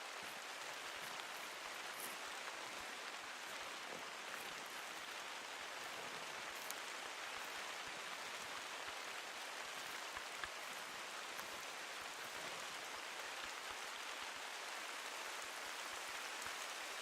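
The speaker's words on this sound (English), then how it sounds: "Almost impossible to hear it coming with this bloody rain though." Steady hiss of heavy in-game rain in The Hunter: Call of the Wild, a dense even wash of drops with faint pattering detail, constant and unbroken with no voices.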